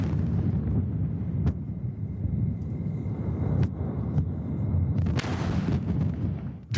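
SpaceX Starship exploding on its launch pad during testing around 11 p.m.: a deep, continuous rumbling roar with crackling bursts, steady and loud throughout, with no voices.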